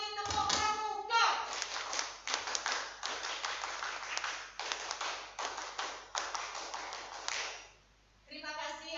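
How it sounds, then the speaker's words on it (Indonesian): Scouts at a Pramuka troop training opening at a junior high school clap the rhythmic Pramuka clap in unison, crisp close patterned hand claps repeated in a long series, with children's voices at the start and end. "Dua kali tepuk pramuka."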